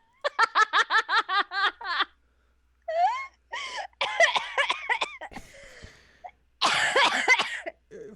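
A rapid burst of repeated coughs, then strained, laughing coughs and gasps from one person, close and loud.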